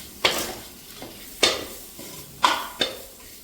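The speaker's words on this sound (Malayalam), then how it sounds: "തക്കാളി ചേർത്ത് ഒരു 2 മിനിറ്റ് നമുക്ക് ഇതിനകത്തൊന്ന് വഴറ്റിയെടുക്കാം." Chopped tomatoes sautéed for Kerala-style rasam in a hot pan: a spoon scrapes and stirs in four sharp strokes against the metal, each over a low sizzle, with no voices.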